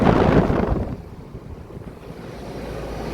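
Outdoor unit of a 2021 Concord 4-ton heat pump running, giving a steady broadband whoosh of fan airflow over a low hum, a little louder at the start, with no talk.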